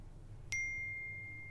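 A phone gives one bright notification ding that rings on and fades slowly over a low background hum, with no voices.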